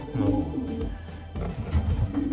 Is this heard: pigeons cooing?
yes